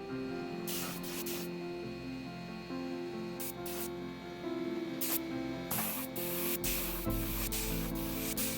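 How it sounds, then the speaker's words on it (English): Several bursts of aerosol sealer spray hiss in short runs inside wooden dresser drawers, fairly close, with brief pauses between them over a steady background. "I like to spray the insides of the drawers with a sealer."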